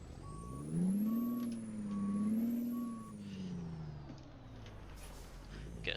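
A Kenworth W900 truck in American Truck Simulator reverses with four evenly spaced backup beeps over a loud, wavering diesel engine drone, followed by a short hiss like an air brake.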